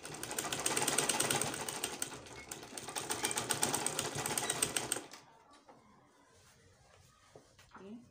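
A sewing machine stitching fabric for a 720 degree peplum runs in a fast, steady mechanical chatter for about five seconds, then stops, leaving quiet handling noises.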